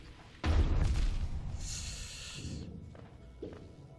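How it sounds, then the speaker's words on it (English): An explosion in the video game Hollow Knight lands as a sudden heavy boom with a deep low thud, then a long rumbling decay with crackling debris that fades over several seconds, followed by a few softer thumps. "Explosions last a lot longer than I expect."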